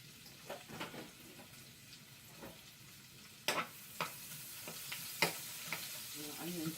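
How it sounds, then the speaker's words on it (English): Onions browning quickly in a good-quality black pan, a soft continuous sizzle punctuated by sharp scraping and stirring clicks from a utensil, close by with no talking. "Onions are browning pretty quick."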